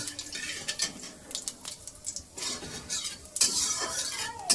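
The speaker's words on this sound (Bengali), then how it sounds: "দুটো তেজপাতা দিয়ে দিলাম আর এই কয়েকটা জিরে দিয়ে দিলাম মানে গোটা জিরে দিয়ে একটু ভালো করে নেড়ে চলে নিতে হবে" Bay leaves and whole cumin tempering in oil for a mutton curry, stirred with a spatula: soft irregular scrapes and clinks against the pan over a faint sizzle.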